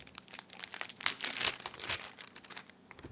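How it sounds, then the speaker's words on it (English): Soft, close crinkling of a thin plastic zip-lock bag being handled, with irregular rustles and a few sharper crackles, fairly quiet with no talking. "Just get a Ziploc bag like this, anyone will do"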